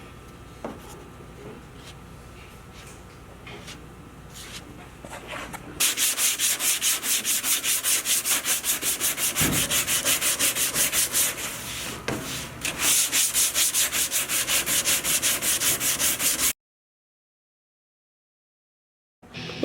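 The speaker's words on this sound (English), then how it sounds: "He's applying some plastic to it, and then he'll get that sanded down" Plastic body filler on a 1969 Chevrolet Nova hood being sanded by hand, a steady rhythmic rasping of strokes after a few quiet scrapes, close and alone, ending abruptly.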